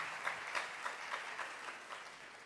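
Audience applause at a Global Youth Movement gathering, a steady wash of many hands clapping with soft rhythmic swells, filling the room at moderate loudness.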